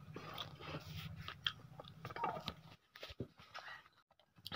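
Someone eats rice with spicy dried fish chutney at home, with close, soft chewing and biting sounds that continue steadily before trailing off into quieter pauses.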